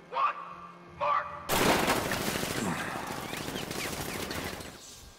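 Sentry gun turrets in Batman: Arkham Knight open up with sustained rapid automatic fire, a dense, loud rattle that follows two brief spoken words and then slowly fades.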